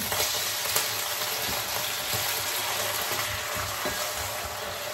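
Food fries in hot sunflower oil with a dense, continuous sizzle and crackle and occasional stirring scrapes, steady and fairly close throughout with no speech.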